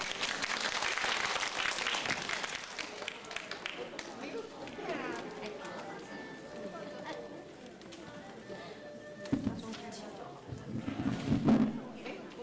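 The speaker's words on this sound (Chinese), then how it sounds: "我们先给他一个掌声啊" Applause from an audience after a short set of Christmas songs, clapping strongest at the start and then thinning out. A voice speaks over it, with a short burst of noise near the end.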